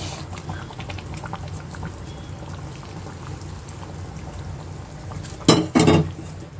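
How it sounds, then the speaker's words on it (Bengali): Chicken curry sizzles and bubbles softly in a pan. Near the end, hot water is poured in with two short, loud splashing bursts. "এবার আমি গরম জল দিয়ে দিচ্ছি।"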